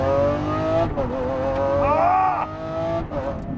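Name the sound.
2020 Lamborghini SVJ engine revving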